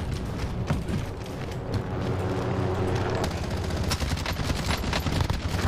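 Dense bursts of automatic gunfire and explosive rumble from a Call of Duty Warzone match, including fire at a helicopter, crackle on continuously and loudly throughout with no pause.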